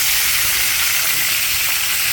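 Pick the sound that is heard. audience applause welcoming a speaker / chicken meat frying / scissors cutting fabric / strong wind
chicken meat frying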